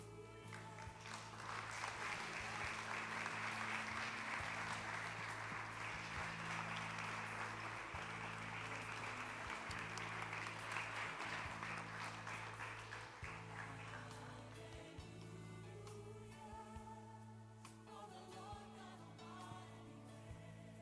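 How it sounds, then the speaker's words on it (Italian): A congregation at a thanksgiving service in an ADM church in Verona applauds its actors. The clapping is sustained and fairly distant over a steady low hum, then thins out and fades near the end. "facciamo un applauso anche ai nostri attori"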